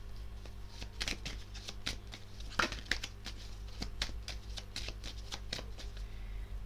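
Tarot cards are handled and shuffled close up, giving a rapid run of crisp riffling flicks and slaps over a low steady hum, with no talking.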